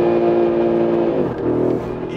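An Audi RS 3 engine under full-throttle acceleration, a steady loud droning engine note heard from inside that dips briefly and then carries on with a slightly shifted tone.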